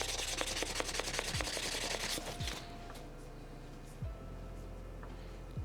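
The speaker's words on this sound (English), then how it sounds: "on the flat face first, then right side, and I can move around on the sandpaper, then left side" Engine part rubbed back and forth across flat sandpaper, a close, scratchy rasping in quick repeated strokes that fades into quieter, sparser scrapes with a few soft knocks.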